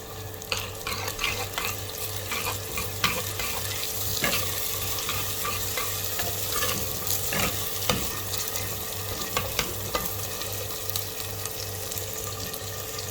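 Chopped tomatoes sizzle in a pan with fried onions for dhaba-style lentil soup: a continuous frying hiss with scattered stirring clicks and scrapes, alongside a low steady hum.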